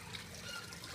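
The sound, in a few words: aquaponics sump siphon draining water and cutting out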